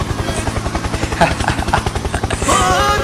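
Helicopter turret bot in the video game Haunted Dorm, a loud rapid chopping rotor beat pulsing steadily throughout, with a rising whine near the end.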